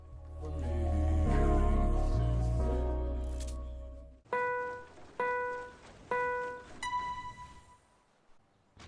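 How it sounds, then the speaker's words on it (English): Fortnite game music plays for a few seconds, then stops and a countdown timer's series of sharp electronic beeps rings out, about one per second, each tone ringing briefly. "eventually you'll hear this timer that sounds like this"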